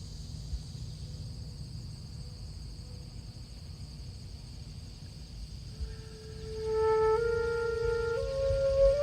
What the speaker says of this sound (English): So just to hear cicadas and birds singing in the city, we're already blessed.